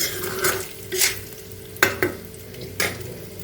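Pork frying in oil in a pan as its fat renders, with a constant sizzle broken by several scraping stirs of a spatula, close and loud, without voices.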